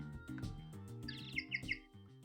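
Chirpy electronic penguin ringtone from the Ace Attorney game, a bright repeating trill over steady background game music, a few high peeps standing out near the end.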